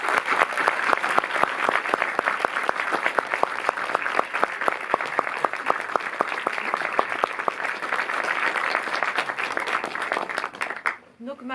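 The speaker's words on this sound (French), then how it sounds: "Est-ce que vous pouvez encore applaudir s'il vous plaît Désiré Lay" Dense, steady applause from a cinema audience at an MK2 Bastille film screening in Paris, sustained close and even for about ten seconds before breaking off abruptly at the end.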